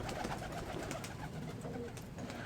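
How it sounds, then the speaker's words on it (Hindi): Pigeons coo softly while pecking at grain, low murmuring calls blending into a steady, faint background hum, close by and uninterrupted. "मेरे कबूतर बाकी नीचे आ रहे हैं, दाना शाना खा रहे हैं मेरे कबूतर"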